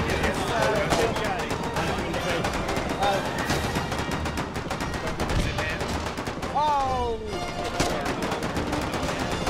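Sustained gunfire aimed at an armored car in the war game Foxhole: dense, rapid shots and bursts repeat steadily throughout, loud and close, with shouted voices mixed in.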